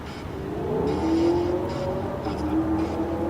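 A loud truck takes off, its engine revving up and holding a rising, droning note at moderate distance.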